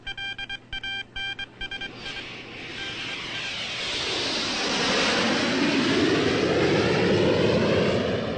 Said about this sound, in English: Planes!